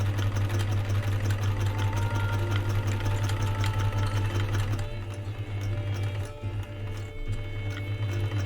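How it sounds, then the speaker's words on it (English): A sewing machine runs steadily and close up while stitching a pirate hat, its rapid needle chatter and motor hum continuous, with a brief slowdown partway through before resuming. "I hope the sewing machine isn't too loud."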